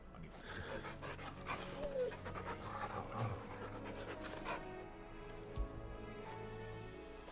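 A dog pants steadily in the Final Fantasy XVI video game, the quick breathy rhythm sitting under game music and ambient sound for several seconds.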